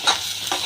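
Onions and green chillies sautéing in a pan for breakfast pasta, a brief soft sizzle with a light stir scrape near the start and another around the half-second mark.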